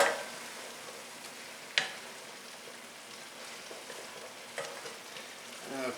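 A spatula stirs linguine with mushrooms and kale in a pan, scraping and clicking a few times over a low, steady sizzle. The sounds are fairly quiet and close, with no voices.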